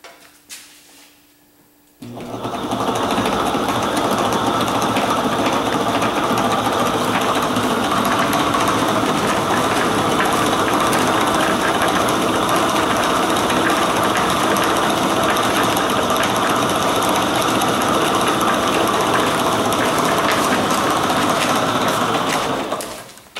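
A homemade boxing robot built from spare parts, with custom-made gearboxes, starts up after a brief quiet moment and its motors run steadily with a loud, continuous whirring and mechanical buzz that holds for about twenty seconds, with no talking.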